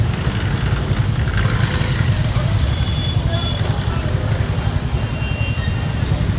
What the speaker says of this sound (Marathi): एवढं ट्रॅफिक जाम लागलेलं आहे